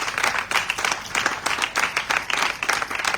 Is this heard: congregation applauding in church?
yes